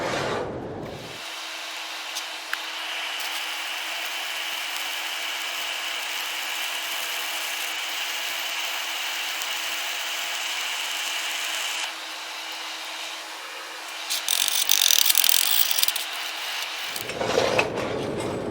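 Welding a second bead in a welding technique exercise: a steady, continuous arc hiss and crackle runs for about fifteen seconds with no talk, briefly louder and harsher near the end before stopping.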